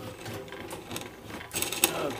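Wood lathe spinning while turning a wooden powder box, a soft mechanical whir with faint rattling and clicks, growing louder and brighter toward the end.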